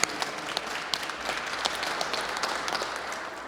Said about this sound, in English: let's give a round of applause to you as well